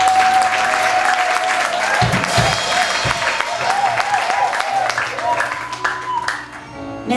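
A church congregation at a pastor's consecration applauds loudly and continuously, with dense clapping mixed with cheering voices, fading slightly near the end.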